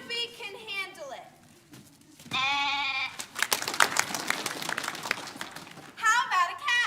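A voice imitates a sheep, giving a couple of short, wavering bleats. Applause-like clatter and further voices follow, then another bleat-like call comes near the end.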